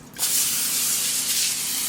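Olive oil cooking spray hisses onto potatoes on a sheet pan in a home kitchen, one close, continuous aerosol burst lasting nearly two seconds.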